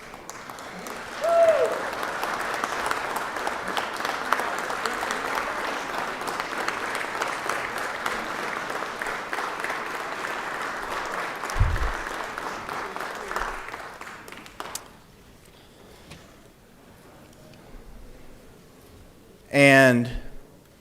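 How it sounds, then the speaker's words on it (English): Legislators and guests in a state legislative chamber give a loud, sustained round of applause for about fourteen seconds that then fades into quiet room noise, with a sharp thump near the end. "I think we owe them another round of applause."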